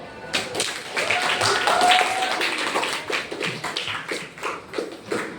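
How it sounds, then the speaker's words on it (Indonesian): Classroom applause: a group of students clapping in dense, uneven bursts that rise and then thin out toward the end, with some voices mixed in. "Tepuk tangan dulu."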